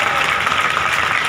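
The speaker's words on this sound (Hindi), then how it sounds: "तालियां बजा रहे हैं।" Crowd applause at a public commemoration ceremony in a village honoring Chandrashekhar Azad, a loud, dense wash of clapping over a brief stretch.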